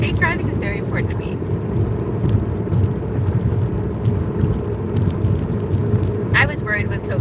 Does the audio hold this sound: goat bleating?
no